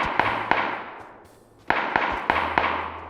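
Gunshots in a PUBG match, seven sharp cracks in two uneven bursts with short echoing tails. They come fairly close and loud, with a low engine-like drone under them and no talk.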